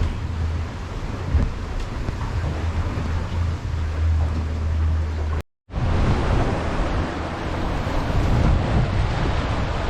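Rough short-period sea chop about 1.5 meters high slaps and rushes around a sailboat under way, with steady loud broadband wash and wind buffeting the microphone, broken by a brief dropout midway.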